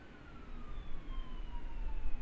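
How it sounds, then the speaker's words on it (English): Faint police sirens wailing outside in the distance, a thin falling tone under a low background rumble, with no talk. "the sirens, they're coming for me."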